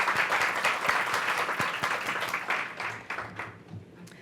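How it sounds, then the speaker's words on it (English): A crowd at a trade symposium applauds steadily, many hands clapping at once, gradually thinning out toward the end. "A round of applause for our future leaders."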